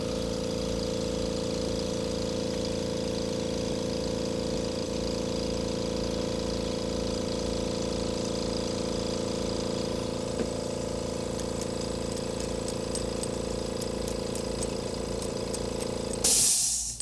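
An air compressor runs close by in a workshop where a 1935 IBM Model 01 typewriter is being repaired, giving a steady, loud, humming drone with a rhythmic pulse, ending in a brief burst of hiss.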